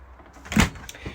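A fridge door in a 2022 Knaus Sport & Fun caravan opens with a single soft thump and seal release, close and fairly quiet, followed by a faint rattle.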